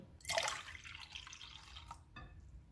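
Water being poured from a cup into a bowl of beaten egg and milk batter, a splashing pour that starts loud, trails off, and ends with a brief second splash, with no talking.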